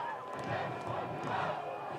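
A stadium crowd roars at Keyworth Stadium during a Detroit City FC versus Charleston Battery soccer match, with broad sustained cheering from a large mass of fans and a commentator's voice faintly over it.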